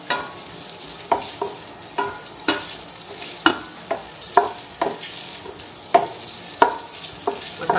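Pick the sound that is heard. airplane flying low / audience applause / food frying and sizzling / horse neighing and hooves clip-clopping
food frying and sizzling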